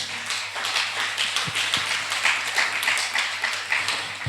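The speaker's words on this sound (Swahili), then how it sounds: "Tupigie Yesu makofi nikienda kumaliza." A church congregation claps during a sermon, a dense wash of applause with scattered sharper claps, sustained and fairly loud throughout.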